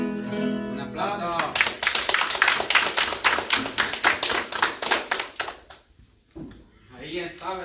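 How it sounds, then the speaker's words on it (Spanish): Round of applause from a church congregation after a song, crisp rhythmic clapping building quickly and running for several seconds before tapering off, with a voice speaking briefly before and after. "Un aplauso."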